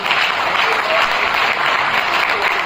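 An audience at an insurance agents' seminar in Rajkot breaks into loud, dense applause, a continuous roar of many hands clapping together, sustained throughout at close range.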